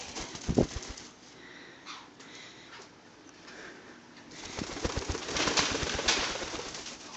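A pet parrot flies about a messy kitchen, its wings giving off a quick run of soft flaps and flutters, with a louder burst of flapping toward the end, fairly close and without talk.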